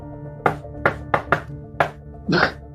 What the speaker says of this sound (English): King leans in and knocks on the door.